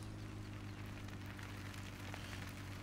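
Steady rain falls in Farming Simulator 17 on a muddy farm map, a soft continuous hiss of drops with a low background hum, even and unbroken throughout, with no voices over it.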